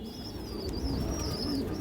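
Pigeons coo in a loft, a steady low burbling that runs through the whole stretch, with a faint higher bird call drifting above it.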